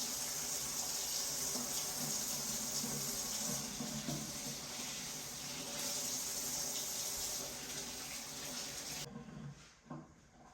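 Kitchen items washed under a running tap, a steady gushing stream of water close by with faint handling clatter, the flow cutting off near the end.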